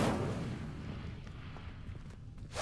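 An Incendio fire spell in Hogwarts Legacy erupts as a dull, rumbling whoosh of flame that swells at once and slowly fades over a couple of seconds, with a brief burst at the close.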